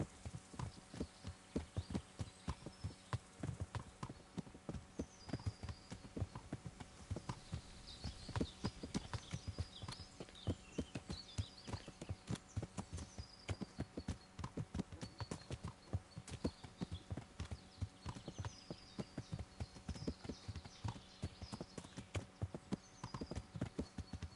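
Steady, rapid clip-clop of horse hooves in a video game continues throughout at a brisk rhythmic pace, with faint birdsong chirping in the background.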